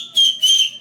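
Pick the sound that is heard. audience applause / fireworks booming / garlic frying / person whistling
person whistling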